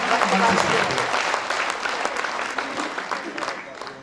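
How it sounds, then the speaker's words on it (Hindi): Dense audience applause fills a hall at a Kavi Sammelan poetry gathering in Kotma, welcoming a poet to the stage, steady and enthusiastic throughout before tapering slightly. "पूरा सदन में इतनी घनघोर तालियों से आमंत्रित करें मणिका"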